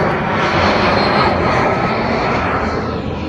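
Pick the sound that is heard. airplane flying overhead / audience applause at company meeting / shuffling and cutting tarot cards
airplane flying overhead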